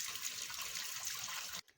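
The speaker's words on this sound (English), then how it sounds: "yesterday I even cooked porridge, and that is what I'm washing right now" Tap water runs steadily onto a porridge pot being washed, a close, even broadband rush that stops abruptly near the end.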